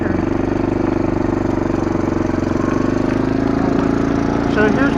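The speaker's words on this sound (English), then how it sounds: "Pretty good for a 40-year-old tractor." A 40-year-old tractor engine running in a lawn and garden setting, a steady close chugging drone that continues without pause, with faint voices underneath.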